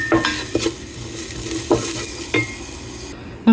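Collard greens seasoned with salt and black pepper are stirred in a pot, with a spoon scraping and clinking against the metal in a few distinct strokes over a soft, steady sizzle.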